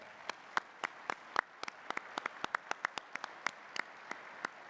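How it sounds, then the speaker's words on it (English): An award ceremony audience gives thin, sparse applause for the finalists, with distinct separate claps at a moderate distance. "let's give our finalists all a big round of applause"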